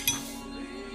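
A spoon gives a single bright clink against a container while scooping crushed barbecue charcoal, with a short ringing tail fading under quiet room sound.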